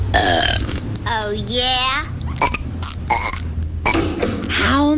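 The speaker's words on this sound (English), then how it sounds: "I absolutely forbid burping in this household." Cartoon characters in The Simpsons hold a burping contest, letting out several long, loud, warbling burps one after another with short bursts of speech between them.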